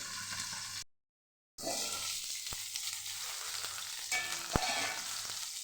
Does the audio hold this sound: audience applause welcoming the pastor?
no